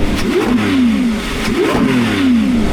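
A loud, close Lamborghini Revuelto engine revs twice in quick succession, each sharp rise in pitch followed by a falling, snarling roar.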